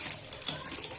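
Water running steadily from a bathtub tap over a tub full of clothes being rinsed, a continuous close, even gushing hiss with no break.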